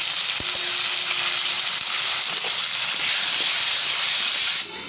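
Food dropped into hot mustard oil in a pan sizzles with a steady, loud hiss, with a few faint clinks at the start, before the sizzle cuts off near the end.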